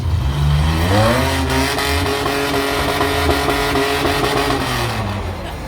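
An off-road vehicle at the Island Cup 2022 competition, on an obstacle course of teeter-totters and telephone poles, revs hard and spins all four tires for traction. The engine climbs in pitch and holds a loud, close roar before easing off.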